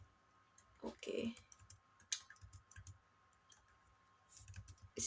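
Someone types the word "strawberry" on a computer keyboard, a short, quiet run of clicking keystrokes in irregular clusters, close to the microphone.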